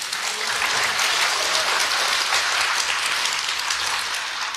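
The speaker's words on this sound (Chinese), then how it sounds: "感谢楼上楼下这么多人雷鸣般的掌声" Thunderous audience applause fills a crowded theater during a Deyunshe crosstalk anniversary show in Tianjin, a dense, steady roar of many hands clapping that stays loud and unbroken throughout.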